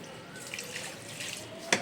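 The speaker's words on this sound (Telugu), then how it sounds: "ఫస్ట్ వస్తున్నట్లే నీళ్ళు వేసినాను కొన్ని" Water poured onto a dried-out money plant, a soft continuous splash and trickle close by, ending with a brief sharp knock.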